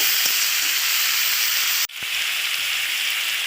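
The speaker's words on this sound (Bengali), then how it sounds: "তো একটু নাড়াচাড়া করে আমি একটু ভেজে নেব" Ridge gourd frying in a pan with turmeric and salt, giving a steady, even sizzle and hiss throughout, briefly interrupted by a soft clatter, with no talking.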